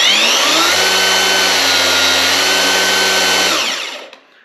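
A 1000W cordless anbull electric rebar cutter whines loudly and steadily for about three and a half seconds while cutting 3/8 steel rebar, then winds down and stops.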